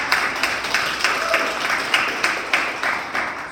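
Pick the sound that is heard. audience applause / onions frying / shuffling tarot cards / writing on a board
audience applause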